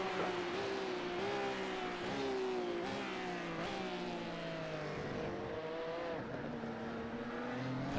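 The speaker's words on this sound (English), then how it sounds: "these cars sound so good at slow speed when the revs really drop" Porsche Cup race car engines in a racing game at Monza drone with wavering pitch as the revs sink and rise at low speed, a continuous mechanical hum with no talking.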